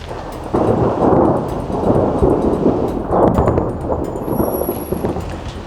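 Heavy rain pours steadily during a thunderstorm on a mountain trail run near Leadville, a dense, loud wash of rainfall with low rumbling thunder underneath throughout.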